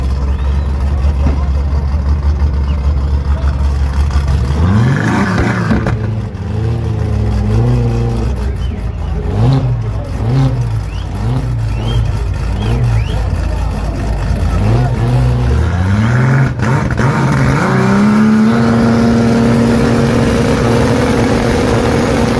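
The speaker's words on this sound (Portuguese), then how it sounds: "daqui a pouco manda o burnout" A car at Interlagos race track revs for a burnout: a loud engine idles low, then repeatedly blips and rises in pitch, falls back, and climbs again into a sustained high rev, while a voice talks over it.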